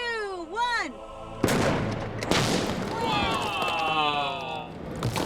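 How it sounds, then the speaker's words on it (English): A black powder cannon fires an ice cannonball with one sudden loud boom partway through, followed by a rumbling tail. Excited speech comes before the shot and a voice exclaims after it. "This is the Ice Cannon in 3, 2, 1."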